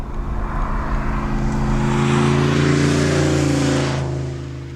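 A Camaro IROC-Z cruising with the air conditioning running, a steady engine drone with smooth tonal hum and road rush heard from inside the cabin, with no one speaking.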